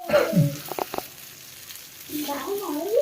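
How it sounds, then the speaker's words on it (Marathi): Grey mullet (boi fish) fries in a pan with a soft, low sizzle, under short vocal exclamations near the start and end and a few faint clicks. "मस्त 5 मिनिटात फ्राय झालेले आहेत आपले बोई मासा"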